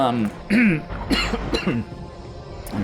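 A single cough from a man playing Factorio, close to the microphone, followed by a few short throat sounds, alone without speech.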